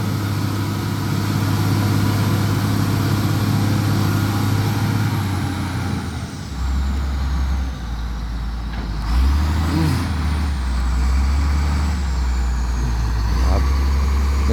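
Motor grader doing road repair work, its heavy diesel engine rumbling steadily and loudly throughout, with a brief hissing release partway through, a voice speaking over the machine noise.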